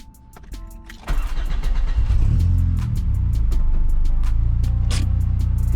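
An Acura RSX engine catches and settles into a low, steady idle and rumble close by, rising in level after a second of quiet clicking, then holding a smooth drone as the car sets off.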